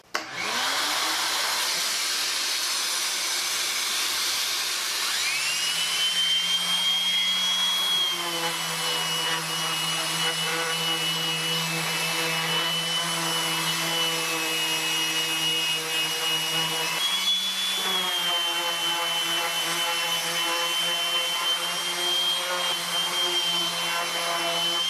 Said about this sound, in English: give this a quick light sanding while everything is still flat